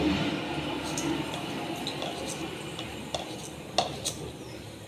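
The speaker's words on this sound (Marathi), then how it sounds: "जिरे आणि मोहरी छान अशी तळतळली" Mustard seeds and cumin splutter in a tablespoon of hot oil in a kadhai, a steady soft crackling hiss with a few sharp pops near the end.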